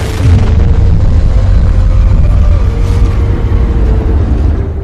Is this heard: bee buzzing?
no